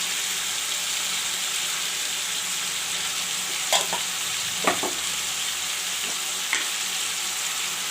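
Drumstick curry fries with a steady, soft sizzle as turmeric powder is stirred in, broken by a few brief spoon scrapes against the pan.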